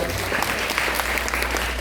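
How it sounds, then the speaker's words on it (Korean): An audience of teachers at a training session claps for a speaker being introduced, a dense, even patter of many hands close by lasting under two seconds over a low steady hum. "박수 부탁드립니다"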